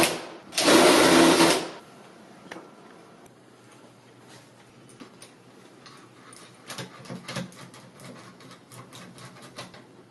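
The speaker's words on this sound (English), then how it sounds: "using a countersink to deburr it." A loud, steady whirring burst of a drill with a countersink bit deburring a hole in a wood door, running for about a second, then quieter scraping and handling noises.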